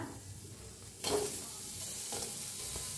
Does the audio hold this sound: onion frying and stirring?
yes